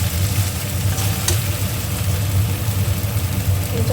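Green jackfruit sautéing in a pan makes a dense, continuous sizzle with faint scraping from stirring, close and fairly loud, without talk.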